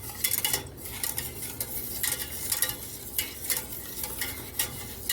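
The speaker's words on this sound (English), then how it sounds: "And then I just stir it up." A spoon stirs a pot on a stovetop burner, rhythmic metallic scrapes and clinks repeating close up over a soft background hiss.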